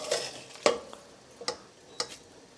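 Cooked rice being stirred into chicken soup for porridge, giving a few separate soft scraping and clinking strokes with pauses between them, close and fairly quiet, with no voices.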